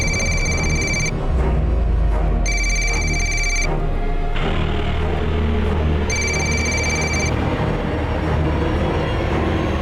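A telephone rings three times in bursts of about a second each, spaced apart, over a constant rumbling background.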